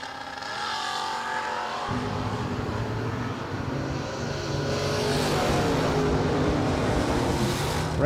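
Drag racing cars, one of them a Mustang, launch at an SFG FuelTech season opener: after a brief lower idle, a loud engine roar bursts in and holds steady and heavy, rising slightly toward the end.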